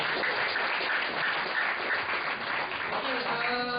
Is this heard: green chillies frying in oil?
no